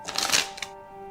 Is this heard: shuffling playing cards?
yes